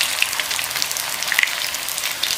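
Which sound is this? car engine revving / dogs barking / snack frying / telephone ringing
snack frying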